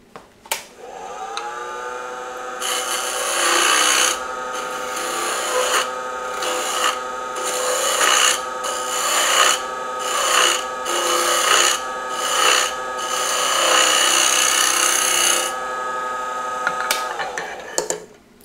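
A wooden glue block turning on a lathe is trimmed with a tool, making a close, loud rasping cut that comes in repeated short bursts over the steady whir of the lathe motor.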